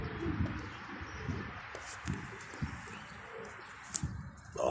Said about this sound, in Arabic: شكله فرد حمام غزار